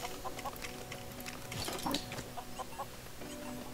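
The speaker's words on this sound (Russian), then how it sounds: "Ну, курица." A chicken in the video game LEGO Worlds clucks in a series of short, pecking calls over a steady background hum of game ambience, with no talking.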